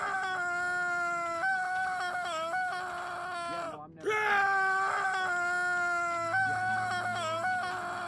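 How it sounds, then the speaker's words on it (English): A character in the Hitman video game lets out a long, sustained shriek, a harmonic voiced scream held for several seconds, breaking briefly midway and then resuming loud and strained. "Now, shriek with me."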